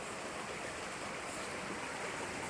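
Steady, full rush of flowing river water, continuous and fairly close, with no voices over it.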